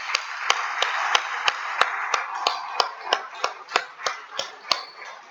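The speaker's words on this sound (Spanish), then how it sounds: "Un aplauso al Señor." A church congregation at a Sunday service claps in a steady, rhythmic beat, about three sharp claps per second, over a softer wash of scattered applause.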